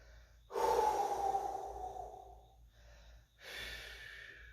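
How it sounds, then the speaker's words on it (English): A person breathes deeply during a stretching exercise: a long, loud exhale through the mouth, then a quieter pause and a second breath, heard close and alone. "Remember, big deep breath."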